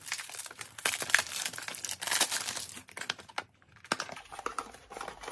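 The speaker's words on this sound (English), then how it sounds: "Let's go ahead and open this and see what the bottle looks like." Plastic wrapping on a vegan, cruelty-free fragrance bought at Target is crinkled and torn open up close, a dense run of quick crackles and rustles with a short pause near the end.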